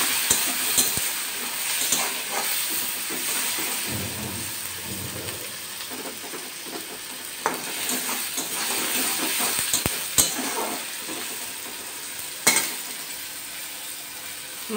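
Spices for a fish curry fry and are stirred in a pan, giving a steady low sizzle with scattered scraping and clinking of the utensil against the metal, with no talking.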